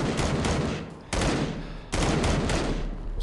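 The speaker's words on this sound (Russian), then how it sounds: "Давай, наверное, из шквала постреляем" Automatic fire from the Squall weapon in Into the Dead 2 rattles in three sustained bursts, loud and close, with brief gaps between them.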